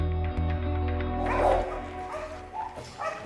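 Dogs at a French Air Force military kennel bark and yip, with a whimper in between, a few moderately close barks over a steady low hum.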